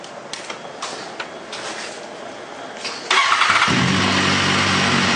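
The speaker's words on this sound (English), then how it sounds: "Can we hear one of these bikes fire up?" A BMW S1100RR motorcycle engine starts up: a few quiet clicks, then the engine catches abruptly and settles into a loud, steady idle close by.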